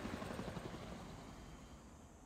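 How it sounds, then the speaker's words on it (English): Helicopter in the strategy game Civilization VI, a steady low rotor chop with continuous engine whine, moderately loud and fading slightly, with no talk over it. "Helicopter is gonna destroy you."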